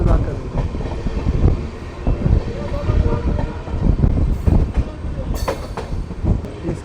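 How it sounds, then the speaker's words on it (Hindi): Amritsar–Bikaner Superfast Express train at a station in Punjab, with irregular rumbling, clanks and knocks of rolling stock nearby, a few faint sharp squeals, and no clear voices. "वो देखिए सामने ट्रेन खड़ी हुई है, हमारी ट्रेन का इंतज़ार कर रही है।"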